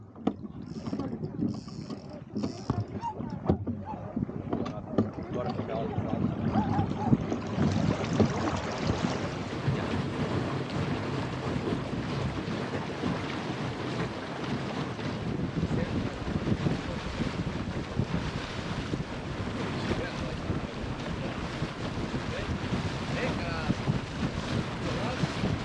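Wind gusting over a small sailboat on open water, a constant roaring rush with buffeting against the microphone that grows heavier after the first few seconds and stays loud throughout.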